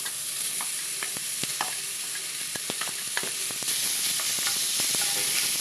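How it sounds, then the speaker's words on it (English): Bacon sweating in a hot pan for a sauce, with a steady sizzling hiss broken by sharp clicks and scrapes as it is stirred, close and alone. "I'm gonna sweat the bacon down first."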